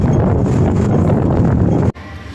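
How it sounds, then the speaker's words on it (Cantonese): Strong wind blows outdoors in Hong Kong, buffeting the microphone with a loud, low roar that stops abruptly near the end. "但係唔知做乜勁大風喎"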